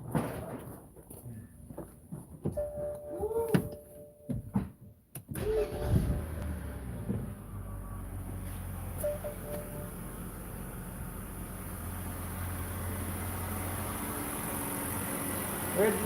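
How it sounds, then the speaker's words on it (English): A 2008 BMW E92 being tested after its cooling system was flushed of oil with dish detergent. Faint clunks and shop noises lead into the engine starting about halfway through, and it then settles into a steady, low idle. "go ahead and start the car again"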